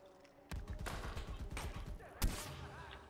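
Gunfire in the Far Cry 4 video game, a rapid run of loud repeated shots followed by a single sharper crack, with game sounds underneath and no talk.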